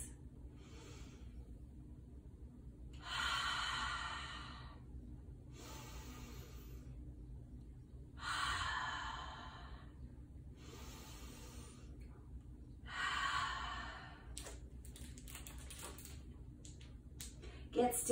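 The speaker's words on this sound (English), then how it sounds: "Let's take 3 deep breaths." Three slow, deep breaths, each a soft broad rush of air in and out, come at a steady unhurried pace in a quiet room, with a faint low background hum beneath.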